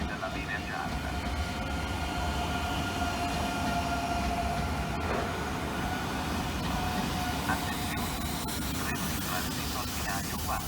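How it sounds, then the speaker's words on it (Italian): A train passes through a Milan railway station, a steady loud rumble of wheels and carriages running on without a break, with station announcements faintly in the background. "Treno in transito al binario"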